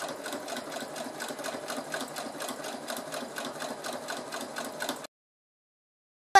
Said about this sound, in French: Et on essaye de coudre le plus droit possible. C'est parti pour la couture du haut.